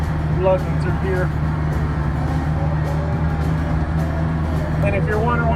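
A Kubota 8536R tractor engine lugs hard while driving a center pivot mower through wet Johnson grass, giving a steady, loud, low drone that holds without a break.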